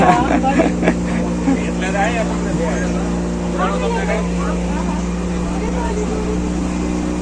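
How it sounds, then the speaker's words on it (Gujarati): A steady, droning motorboat engine runs throughout on Lake Pichola in Udaipur, loud and close, while people talk over it. "ફાઇનલી આપણી બોટ શરૂ થઈ ગઈ છે ભાઈ"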